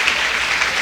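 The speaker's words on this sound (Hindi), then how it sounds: "इन गुरुओं के लिए ताली बजाओ।" Audience clapping for teachers at a Hindi comedy poetry gathering, a dense steady patter of many hands sustained throughout the brief moment, with no voices.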